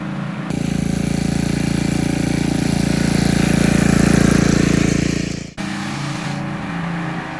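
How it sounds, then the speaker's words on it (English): A 5 horsepower garden tiller running close by, a loud steady engine drone with a churning rattle that drops off sharply near the end and then continues at a lower idle, with no talking. "you will need a much larger tiller than this 5 horsepower one I am using"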